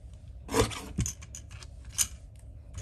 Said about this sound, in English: I'm going to cut it with my little trimmer